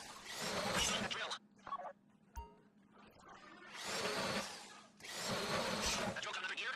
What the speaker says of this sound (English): That drill got another gear? Come on!